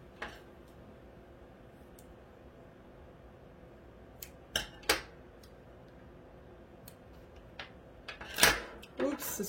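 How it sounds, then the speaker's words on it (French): Scissors snip through plastic packaging while diamond painting supplies are sorted, giving a few sharp, close clicks and cuts scattered among quiet handling noises, with no talking. "excusez-moi pour le bruit des ciseaux"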